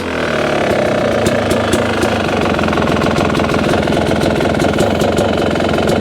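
A Yamaha YZ250X two-stroke dirt bike fitted with a heavy flywheel idles close by, a loud, steady, slightly uneven burbling putter with sharp ticking crackles, continuous throughout.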